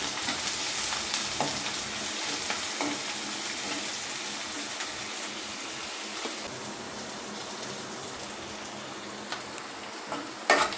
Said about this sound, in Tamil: பாருங்கள், பூண்டு வெங்காயம்லாம் நல்லா வதங்கிடுச்சு.